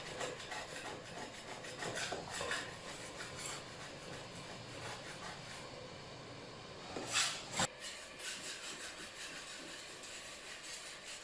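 Blue paint is scraped off a plaster wall coated in stripping paste, giving faint, repeated rasping strokes in an irregular rhythm with a few sharper scrapes partway through, heard close in a quiet room.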